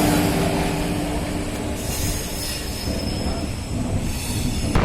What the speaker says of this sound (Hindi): बहुत तेज़ चल रही है ट्रेन